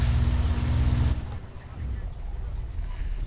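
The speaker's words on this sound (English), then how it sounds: "You gotta hold this out till the engine completely shuts down." A Supermarine Spitfire Mk II engine in the A2A flight simulator cutting out: a loud, rumbling idle abruptly drops away after about a second, leaving a faint, low hum.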